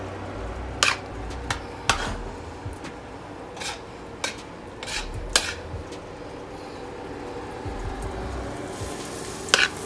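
Eggplants fry in two hot pans for Filipino giniling, a steady sizzle running throughout with sharp utensil clinks and pan knocks scattered across it at irregular intervals.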